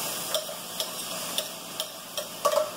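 Mushrooms and onions fry in extra virgin olive oil, a soft steady sizzle with light periodic clicks and scrapes of stirring in the pan, close and quiet.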